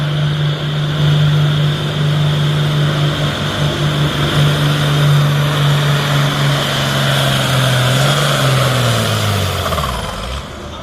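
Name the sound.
tractor engine running at a tractor pull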